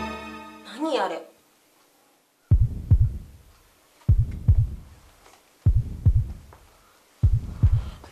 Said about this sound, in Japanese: 鼓動が聞こえる。